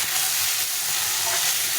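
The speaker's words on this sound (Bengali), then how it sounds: "ভাজাটা একদম লাল লাল করে ভেজে নিতে হবে" Ash gourd pieces fry in hot oil, giving a loud, unbroken, close-up sizzling hiss for a short stretch without any talking.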